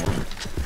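Horse hooves clip-clopping in Red Dead Redemption 2, a few quick, close hoofbeats at an uneven gallop-like rhythm over soft game ambience.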